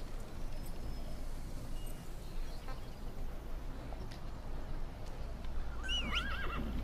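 A horse in the video game Metal Gear Solid V whinnies near the end after being called with a whistle, a rising, wavering neigh over steady ambient game noise and faint hoof clops, with no talking.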